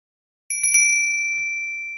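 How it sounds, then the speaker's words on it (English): A single bicycle-bell-style ring from a video game strikes in a few rapid hits, then leaves a clear metallic tone ringing and slowly decaying, loud and alone. "This is like a bicycle bell or something. No, this is from a video game."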